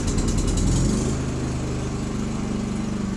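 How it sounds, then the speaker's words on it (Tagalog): A Philking PK4200ie2A generator fires up on its own after the main breaker is switched off, settling into a loud, steady engine drone up close with a rougher burst at the start and no talking. "dapat automatic na mabubuhay yung ating generator"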